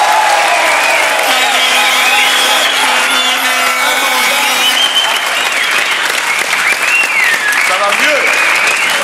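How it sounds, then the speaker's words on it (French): Loud, sustained audience applause on a French television game show set, with voices, cheers and a brief spoken exclamation over the clapping throughout. "On applaudit."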